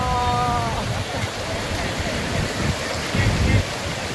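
Sea water churns and splashes steadily around someone bathing at Havelock Island, with a broad wash of surf and wind noise and a brief swell of louder splashing near the end.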